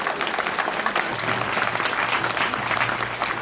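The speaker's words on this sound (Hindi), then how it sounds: "एक बार जोरदार तालियां हमारे गुरुदेव के लिए बजाएं" Sustained applause from an audience at a Padma Purana katha closing ceremony in Nagda, honoring the guru seated on the vyaspeeth, with dense steady clapping throughout and no talk over it.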